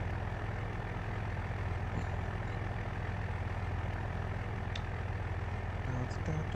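Truck engine idling in the video game Farming Simulator 25, a steady low droning rumble held close and constant throughout, with no talk over it.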